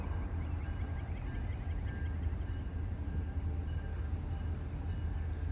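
A Norfolk Western SD40-2 diesel locomotive hauls a train past a grade crossing, a loud, steady rumble of engine and rolling wheels that fills the whole stretch without a break.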